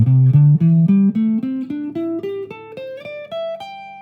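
A guitar plays a rising pentatonic scale pattern, single notes picked one after another in a steady even rhythm, clear and close with no talking.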